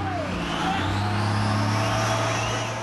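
A car accelerates hard at a drag strip, engine revving upward through the gears with a rising, tonal drone that stays loud and close for a few seconds.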